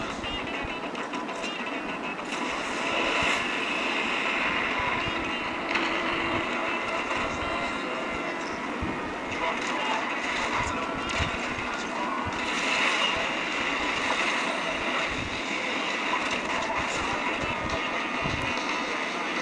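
Asphalt 9: Legends car racing game audio, a dense, steady wash of engine roar and broadband rushing noise that runs loud and unbroken throughout, with no clear talk on top.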